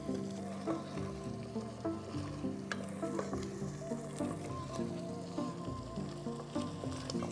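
Ghee-free Jain matar paneer gravy frying and being stirred in a pan, a steady close sizzle with repeated scraping and clinking strokes of the spoon throughout, no voices.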